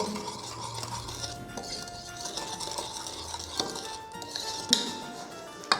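Sponge cake batter with flour is beaten in a bowl, giving a steady, moderately close scraping and stirring with occasional clinks of utensil against the dish.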